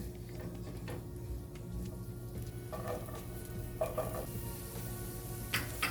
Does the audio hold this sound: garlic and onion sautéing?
yes